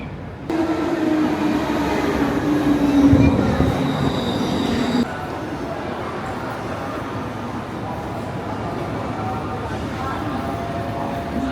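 Steady rumble and rattle of a moving train on the Kobe line in Japan, heard from inside the carriage, with a brief squealing tone early on, then a continuous even roar.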